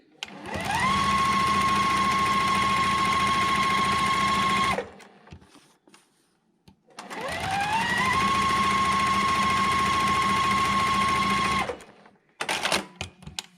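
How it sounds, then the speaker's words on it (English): Two bursts of close, rapid sewing machine stitching, each several seconds long, run along a drawn diagonal line on half-square triangle quilt pieces, with a short quiet pause between them and a brief stutter at the end. "I'm going to stitch on both sides of that line"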